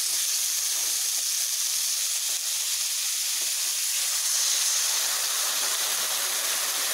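Water splashed into a pan of frying wax gourd sets off a steady, loud sizzle and steaming hiss that holds continuously without pause, with no voices over it.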